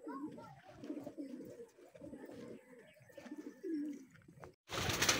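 Racing pigeons in a loft coo steadily in low, throaty rolling calls, several birds overlapping up close, with a brief burst of broadband noise at the end.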